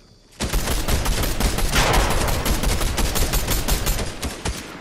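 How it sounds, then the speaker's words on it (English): Rapid shotgun blasts and gunfire in a trios video game match, loud, dense and continuous, with sharp overlapping cracks that barely pause for nearly five seconds. "I'm coming in with this shotgun"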